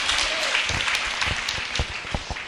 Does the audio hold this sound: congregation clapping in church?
yes